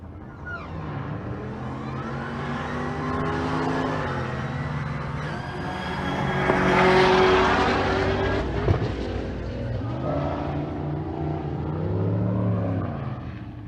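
Drag race cars launching at a race week drag strip, including a 2004 stick-shift Mustang: loud sustained engine roar rising through revs, surging to a peak mid-way and holding strong to the end.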